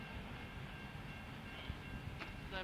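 A West Coast Wilderness Railway train pulls into Queenstown station with a steady low rumble and clatter of the rolling train, heard at a distance with faint higher squeals.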